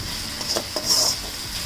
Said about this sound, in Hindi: ये हम फ्राई कर रहे हैं पहले चिकन को मैं अच्छे से फ्राई कर रही हूँ